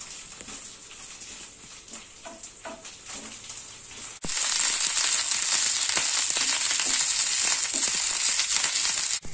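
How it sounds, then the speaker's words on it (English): Five medium-spicy green chilies sautéing in a pan for drumstick leaf chutney, a soft patter that jumps to a loud, steady sizzling hiss halfway through, close and continuous with light crackles. "Now I'm adding 5 medium spicy green chilies. Now we have to saute it until it reduces."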